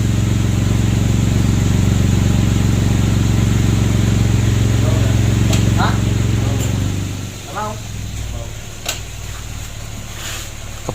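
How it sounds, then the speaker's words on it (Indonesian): A diesel engine whose oil is contaminated with diesel fuel is cranked by its starter motor: a loud, steady mechanical whir lasts about seven seconds and then stops, leaving quieter workshop noise and some voices. "Ini baterainya sudah kita pasang, lanjut kita starter dulu"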